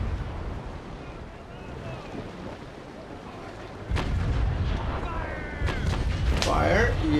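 Cannon fire from square-rigged warships in the naval combat game Naval Action, bow chasers and carronades booming in sharp, loud blasts over steady wind and sea noise, a sudden heavy report followed by several more shots.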